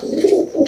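A racing pigeon coos close up in a short, soft two-part throaty call, alone without talk.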